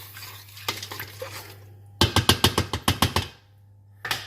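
A spoon scrapes and knocks around a pan of sauce in quick bursts, first a few scattered taps, then a rapid rhythmic run of about ten clinking strokes, close and clear, with a low hum underneath.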